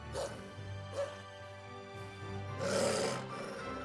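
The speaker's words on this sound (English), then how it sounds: "That dog. What's gotten into it?" A dog in the video game Tales of Zestiria gives several short barks and yips, spaced out and fairly faint, over a quiet low background.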